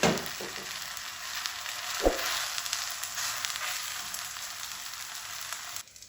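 Flatbread fries in oil on a pan, giving a steady, close hiss of sizzling that runs throughout with a single soft tap partway through and a brief drop near the end.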